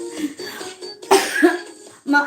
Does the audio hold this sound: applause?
no